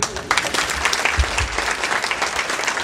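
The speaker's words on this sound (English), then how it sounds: "and Natalie, let's give a round of applause for them" A wedding crowd applauds with steady, dense clapping for a few seconds, fairly close and lively.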